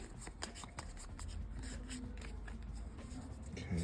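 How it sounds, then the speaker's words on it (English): A deck of cards is shuffled in a run of quick, crisp riffling flicks and soft slides, close and fairly quiet, with a faint voice underneath. "Let's give these a good shuffle."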